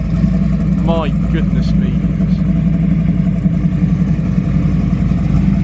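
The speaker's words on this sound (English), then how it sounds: "listen to that crazy Capri that's coming out this way" A Ford Capri at a classic car Sunday gathering idles with a steady, deep, loud engine note, with a brief rev near the start, while someone talks over it.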